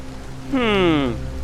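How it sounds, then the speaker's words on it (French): Nighttime rain in the video game Detroit: Become Human patters softly and steadily, briefly overlaid by a short, gliding, voice-like tone. "Il fait nuit, il pleut"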